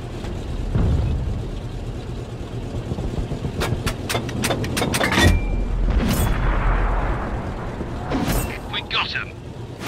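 An FV305 self-propelled artillery gun firing in World of Tanks: a heavy cannon boom with a burst of sharp cracks and a rumbling tail, set in a continuous mechanical engine drone.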